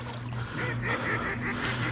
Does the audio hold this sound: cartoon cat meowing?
no